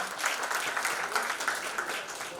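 Steady applause from the audience at the inaugural program of the Credo Center of Excellence, a dense even wash of clapping from a room of people, moderately loud and continuous throughout.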